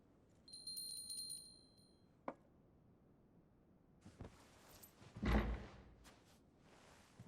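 A bell in the Final Fantasy XVI video game rings in a short, bright, shimmering burst that fades out, followed by quieter thuds and shuffling movement.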